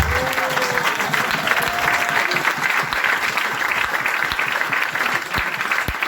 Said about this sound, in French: Et ça mérite d'être applaudi et souligné.